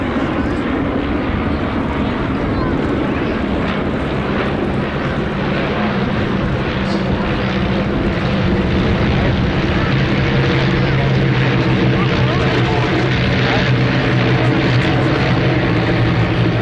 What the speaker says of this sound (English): I'll let you listen to the sound of those 9 wonderful de Havilland Gypsy Major engines, 130 horsepower each